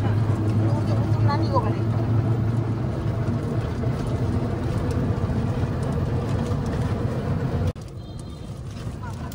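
An easy bike, a battery-powered auto-rickshaw, riding along a village road in Bikrampur with passengers aboard, a steady rumbling hum of wheels and rattling body that drops sharply in level near the end.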